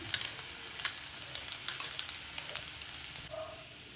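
Cumin seeds and garlic frying in a pan for an aloo gobhi matar dish, a steady crackling sizzle dotted with sharp pops and small bursts, close and moderately loud with no voices.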